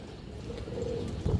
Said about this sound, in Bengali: এটা জাবরা কবুতর ভাই